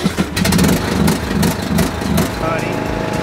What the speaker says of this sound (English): Well, the mower starts.